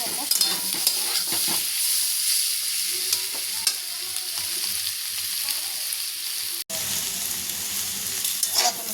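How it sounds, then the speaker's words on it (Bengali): Pointed gourd (potol) frying in oil in a pan, a close steady sizzle with repeated stirring scrapes and a brief break partway through. "এখনও ভাজা হয়নি এখানে আরও দশ মিনিট ভাজবে"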